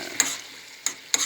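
Chayote and sardines are stir-fried in a pan, with three quick scraping stir strokes over a soft steady sizzle, close up and without speech.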